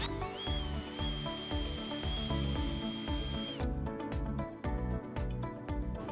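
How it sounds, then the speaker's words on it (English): A power drill bores pilot holes during a Lumi-Ducks side window Sky One Touch install, starting with a steady high motor whine and then moving into rougher, choppier drilling and grinding bursts, close and loud, with no voices. "drill the pilot holes"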